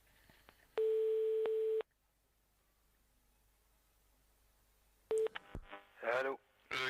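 Telephone call tones play as one man rings another: a long steady ringback tone, a pause of near silence, then a short tone burst before a voice answers on the line.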